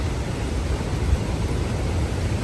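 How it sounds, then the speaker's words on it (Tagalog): Strong typhoon wind roars in a dense, steady rush during a storm in the Visayas, loud and unbroken throughout with no voices. "Marinig po natin yung lakas ng hangin po mga kababayan."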